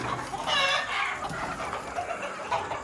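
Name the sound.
country chickens clucking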